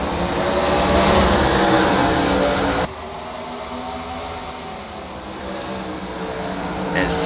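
Late model race cars racing at Nashville, a loud dense engine roar from the pack that briefly cuts lower, then builds again, with a commentator talking over it.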